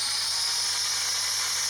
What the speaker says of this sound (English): we're going to use the trusty angle grinder with a flap disc